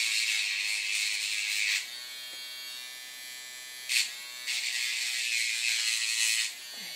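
A homemade battery-powered glass powder frit applicator buzzes in two loud, steady bursts of several seconds each, separated by a quieter stretch with a brief click. The sound is close up and no one talks.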